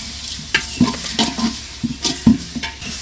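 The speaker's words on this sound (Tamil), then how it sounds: "நல்லா வதங்கி வரட்டும் வெங்காயம் தக்காளிலாம்" Onions, tomatoes and garlic sautéing in oil for a village-style dry fish curry, heard as a close sizzle with quick irregular scraping strokes of a stirring spoon against the pan.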